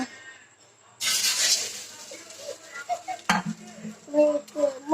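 Egg-dipped bread slices are laid on a hot dosa griddle, giving a sudden loud sizzle that fades into softer frying, with scattered clinks and scrapes of a utensil against the pan.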